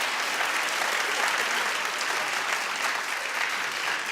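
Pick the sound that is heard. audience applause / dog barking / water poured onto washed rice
audience applause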